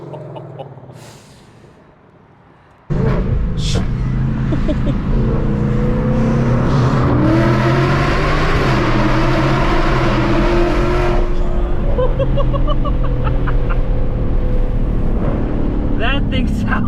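A Ford S650 Mustang with long tube headers in track mode roars through a tunnel, a loud sustained engine drone with rising revs and echoing reverberation starting abruptly after a quieter opening, with voices talking over it.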